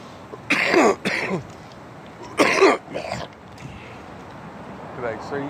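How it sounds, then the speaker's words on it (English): A man clearing his throat and coughing, two harsh raspy bursts close to the mic separated by quiet pauses, followed by a softer faint throat sound at the end. "I gotta clear my throat, goddammit."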